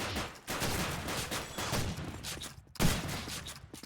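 Rapid bursts of automatic gunfire in a competitive Wolfenstein-style shooter match on a haunted castle map, a dense run of shots broken by short gaps and one louder burst near the end, set at a moderate level in the game mix.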